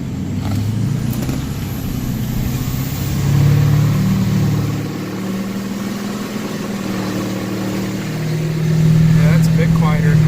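LBZ Duramax diesel truck fitted with an MBRP turbo-back exhaust revving, a steady low rumble that swells twice into louder throttle blips, with people talking over it.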